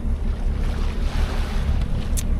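A boat cruises on calm sea near an island cove. A constant low engine drone and rushing water wash fill the air alongside wind buffeting the microphone, with no speech.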